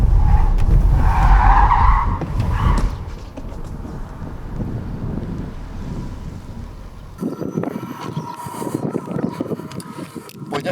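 A 2024 BYD Dolphin swerves through a moose test avoidance manoeuvre: loud tyre scrub and wind rush at first, easing to steady road and wind noise, then a rattly interior roar late on.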